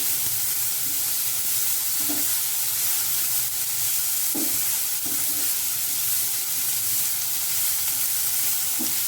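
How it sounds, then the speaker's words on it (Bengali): Momo filling stirred in a hot pan, a continuous loud sizzling hiss with a few soft scraping knocks from the spoon. "একটু নাড়াবো আমি এটাকে"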